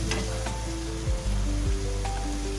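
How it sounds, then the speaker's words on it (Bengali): A cauliflower, potato and egg curry masala sizzles loudly in a pan, an even close frying hiss with a couple of stirring knocks and faint background music. "সব একসঙ্গে দিয়ে ভাজছি, লাল লাল করে ভাজা হবে।"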